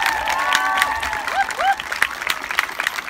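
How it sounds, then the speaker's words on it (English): Applause from a school audience for the dance teacher at a school dance event, a steady clatter of many hands lasting the whole stretch, with faint cheering and a few voices rising over it. "Please, a big round of applause."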